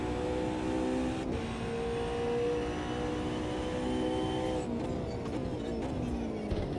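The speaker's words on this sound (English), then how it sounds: "The downshift sound in this car is not too bad either." A race car engine in the video game Automobilista 2 drones steadily with harmonic tones, then drops pitch in a quick downshift near the end, loud and close with no talking.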